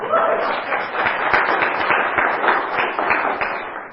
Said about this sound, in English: Let's give St. Paul a little applause.